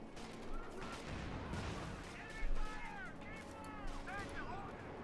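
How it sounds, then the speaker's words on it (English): An M8 Scott fires artillery in the video game Company of Heroes 2, with several booming impacts and bursts of gunfire in a busy battle mix and a voice talking over it. "DeepDarkFantasy's first vehicle of choice is a Scott, focusing on artillery"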